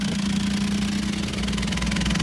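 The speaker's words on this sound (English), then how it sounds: "It sounds like a horrible engine problem, but it's actually just the AC vents flipping" A harsh, steady mechanical droning and rapid fluttering inside a car from the AC vents flipping, resembling a struggling engine, continuous and loud throughout.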